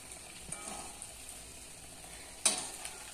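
Fried bread puffing up as it fries in hot oil at a home festive lunch, a steady low sizzle with one sharper burst of crackling near the end.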